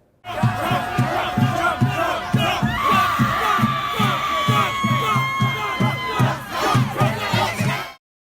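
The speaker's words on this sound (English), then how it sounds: "leftists from all over America gathered to scream at the sky in a pitiful display of solidarity" A large crowd of protesters screams together at the sky, a sustained mass of loud shouting and yelling with rhythmic pulsing bursts throughout, close and dense with no single voice standing out.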